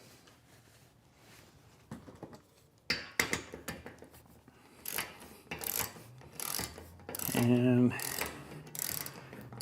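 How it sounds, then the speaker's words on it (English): A ratchet turns half-inch bolts loose from a roof rack on a Ford Transit low-roof van, giving quick bursts of clicking and metallic rasping that get louder toward the end, with brief handling clunks. A voice speaks briefly at the start. "Again, these bolts are 1/2 inch, so we'll just change our ratchet up here."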